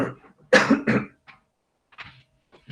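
A man lecturing on criminal procedure coughs and clears his throat in a few rough bursts, loud and close, with short pauses between them.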